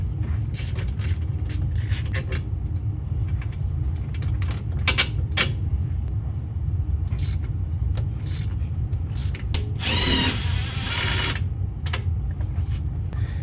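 Pneumatic or electric tool backing out the 14 mm sway bar end link and lower shock mount bolts on a 2022+ Toyota GR86's rear suspension: a loud rattling burst of about a second near the end, with creaks, scrapes and metallic ticks over a constant low rumble.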